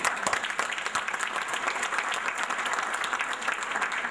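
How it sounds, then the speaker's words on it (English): Steady, close applause from a gathering at the Lynbrook Community Chest mayor's golf outing, a dense even patter of many hands that continues without pause. "One round of applause for the committee who put this together."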